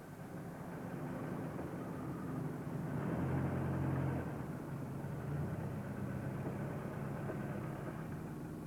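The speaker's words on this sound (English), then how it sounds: "A flying car, or if you like, a door-to-door aircraft." A steady, moderately distant engine drone from a flying car built from a Ford Pinto with a clip-on Cessna airframe and aero engine, holding an even hum that swells slightly midway.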